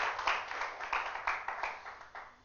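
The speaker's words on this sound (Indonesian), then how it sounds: "Berikan tepuk tangan bagi Tuhan kita." A church congregation claps together during a sermon, making a quick run of rhythmic, evenly spaced claps at moderate loudness that continues for a couple of seconds.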